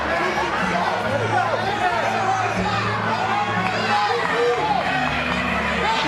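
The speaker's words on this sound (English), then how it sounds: "Crowd trying to rally behind Catherine Roy." Crowd at an LFA MMA fight cheering and shouting in support of a fighter, a steady, loud roar of chatter and yells filling the arena throughout.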